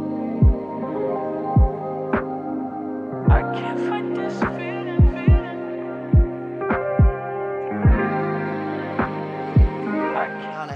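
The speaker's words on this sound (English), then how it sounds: "You guys can hear the sound machine going" A sound machine hums steadily in a home, a continuous low drone with a regular soft thumping pulse that repeats throughout, like a heartbeat setting, running in the background.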